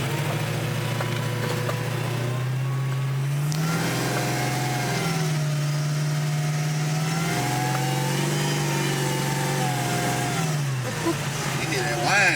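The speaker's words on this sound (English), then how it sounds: "You hear that whine in this one, but These blowers, they turn so damn fast" A 1971 Chevelle convertible with a swapped LT4 V8, an aftermarket cam and a small 1.7 supercharger, revs in steady rising and falling swells, the blower whine riding above a loud, close engine drone throughout.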